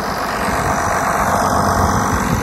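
A tractor engine idles steadily during a break from field work, a loud, continuous near drone with a broadband mechanical hum and no speech.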